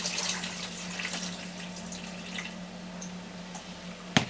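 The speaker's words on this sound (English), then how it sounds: "I'm going to drain some of the water off these strawberries" Water draining off soaked strawberries, heard as a soft steady trickle and splash under a low hum, ending with a single sharp knock.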